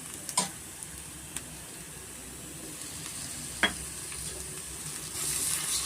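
Onions frying in a pan as a chopped medium tomato goes in, for a spinach and chickpea gravy. A faint, steady sizzle is marked by a few isolated clicks, then swells louder toward the end.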